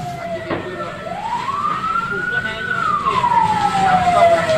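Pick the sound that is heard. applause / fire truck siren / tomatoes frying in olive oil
fire truck siren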